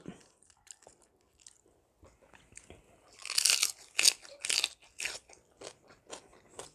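Someone eating rice with gourd and chicken curry and fish-kidney chili paste, close-up crunching bites and chewing in irregular bursts, louder in the middle, with brief soft voices.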